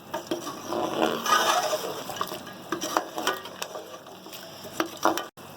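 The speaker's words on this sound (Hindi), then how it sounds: "इन चीज़ों को हम मिक्स करेंगे अदरक लहसुन के साथ और मिर्चों के साथ।" Ginger, garlic and chillies stirred in a karahi for Peshawari lamb karahi, with scraping utensil strokes and a light sizzle rising and falling, close and fairly loud, ending abruptly.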